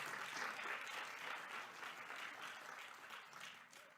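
An audience bursts into sustained applause at a county budget address, a steady dense clapping that fades slightly toward the end, with no talk over it.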